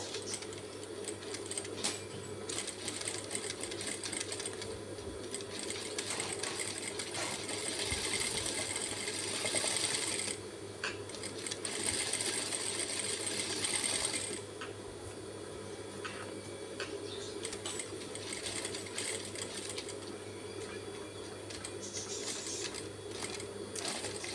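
Sewing machine stitching continuous rounds on practice paper, a fast steady needle chatter that runs almost unbroken, with brief louder stretches and slight changes in pace.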